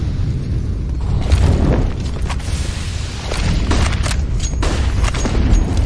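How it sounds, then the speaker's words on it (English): A grenade blast in a Counter-Strike match at a DreamHack Masters esports event, heavy low booms and rumbling detonations layered over continuous in-game gunfire and effects, loud and dense throughout. "that nade does a lot of damage into top mid, but Robs is going to get out of there."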